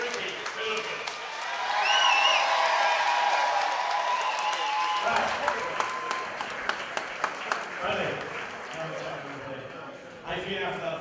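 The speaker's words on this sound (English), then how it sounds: "This crowd is going wild." A crowd at a martial arts fight event applauds and cheers after the decision, a dense wash of clapping and shouts swelling then fading, with an announcer's amplified voice talking over it.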